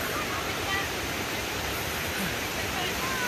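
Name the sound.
waterfall at Bongabon falls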